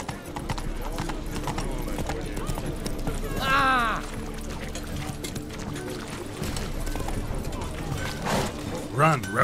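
Roach, the horse in The Witcher 3: Wild Hunt, galloping with rapid rhythmic hoofbeats throughout, loud and close, with a sharp whinny midway and talk over it.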